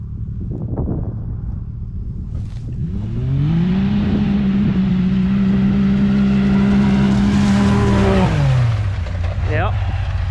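Polaris RZR Turbo and Can-Am X3 XMR side-by-sides drag race side by side, one on 30-inch BFGoodrich road tires, the other on rock tires; a loud sustained engine roar rises in pitch, holds, then drops off as they finish, with voices before and after.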